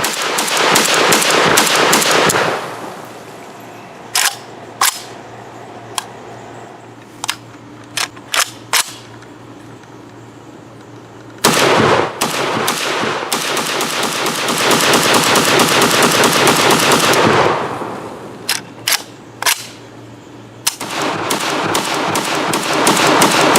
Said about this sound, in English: first shots with the WBP Lynx pistol